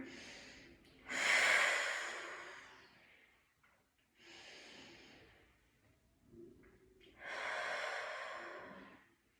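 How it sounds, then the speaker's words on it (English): Slow, deep breaths during a seated forward fold in a gentle chair yoga class: three long airy breath cycles, each a loud, close exhale with softer inhales between them and no talking. "Go ahead and take 3 breaths here."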